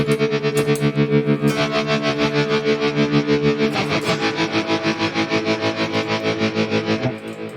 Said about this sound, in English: And of course the tremolo, as I like it. You can tap in the tempo.